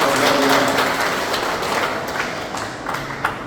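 Audience applause at a political memorial photo exhibition event in Korea, a dense wash of clapping that is loud at the start and slowly fades over a few seconds.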